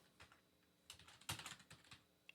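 Typing on a computer keyboard: a quick, uneven run of close keystrokes with a few louder taps bunched together, with no voice.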